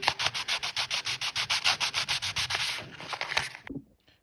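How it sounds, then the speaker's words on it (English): 600 grit sandpaper rubs rapidly back and forth on an aluminum valve body, making close, rhythmic scratchy strokes about five per second that stop abruptly near the end. "I've got some 600 grit sandpaper here."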